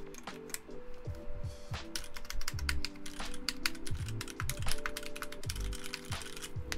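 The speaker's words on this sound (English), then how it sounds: "You guys want to hear typing sounds, I guess?" Rapid clacky keystrokes on a mechanical keyboard, a steady stream of crisp clicks with occasional heavier thocks, close up and fairly quiet.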